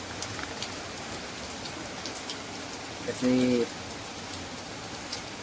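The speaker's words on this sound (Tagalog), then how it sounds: "Lalong lumalakas ngayon ang ulan mga kapatid." Heavy rain hisses steadily all around, a dense constant patter with a brief spoken word rising over it midway.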